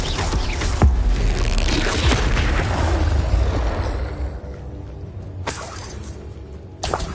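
Explosive spell effects Confringo and Glacius burst in a Hogwarts video game: a loud rumbling blast with shattering crackle rolls on for several seconds, then fades, followed by two sharp bright impacts near the end.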